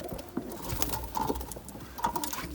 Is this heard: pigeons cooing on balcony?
yes